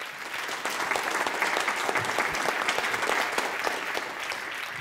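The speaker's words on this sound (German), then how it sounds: "mit einem fetten Applaus auf die Bühne hole ich unseren Kundenberater" Audience applause at a stage event, a dense run of many hands clapping loudly and steadily for several seconds, with individual sharp claps standing out near the front, easing slightly at the end.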